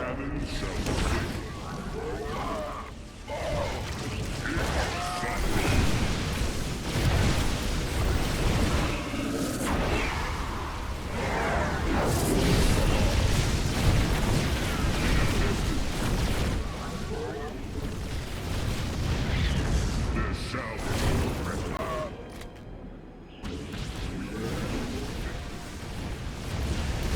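Cannon fire and explosions in a StarCraft II battle, a dense, continuous barrage of booming blasts and mechanical clatter mixed with game music and unit voices, loud throughout with a brief dip near the end.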